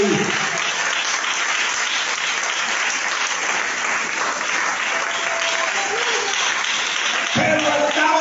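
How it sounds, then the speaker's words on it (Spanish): Congregation applause during a Spanish-language church service: loud, sustained clapping from a large crowd that fills the whole span, with a brief voice surfacing near the end. "Dale un aplauso al Rey."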